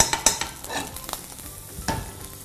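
Pastırma crisps in butter in a pan, with a near sizzle broken by sharp stirring scrapes and utensil knocks against the pan, no one talking.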